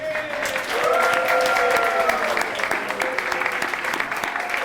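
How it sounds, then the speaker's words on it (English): A reunion audience applauds Cass Technical High School at its 60th reunion ceremony, a loud, sustained wash of clapping from a large crowd with voices and cheers rising through it. "Ladies and gentlemen, will you join me in applauding Cass Tech?"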